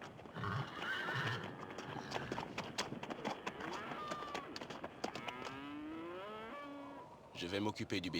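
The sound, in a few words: horse neighing and hooves clip-clopping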